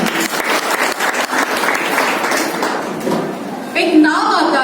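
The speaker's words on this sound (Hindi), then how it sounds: "खुद के लिए तालियां होती हैं" Audience members at a motivational talk for women break into applause, a dense burst of clapping that thins out near the end as a voice and some handling noise come in.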